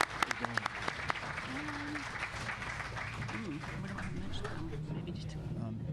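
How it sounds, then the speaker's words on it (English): Sustained applause from an audience at a political candidates forum, steady and fairly loud throughout, with a few brief voices rising over the clapping. "Please give them all a round of applause."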